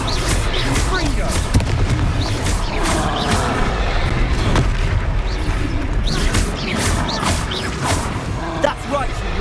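Hogwarts Legacy combat with the Confringo fire spell: deep booming blasts and crashing impacts burst repeatedly over a dense, constant wash of battle noise, with game character voices speaking throughout.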